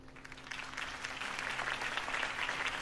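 Crowd applause from an audience in a Batman Telltale video game scene, a steady wash of many clapping hands that swells slightly and holds without talk.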